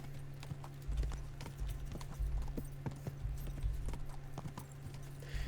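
Hooves of a horse galloping over grass in Kingdom Come: Deliverance II, a quick, steady run of muffled clip-clops at moderate distance, with a faint hum underneath.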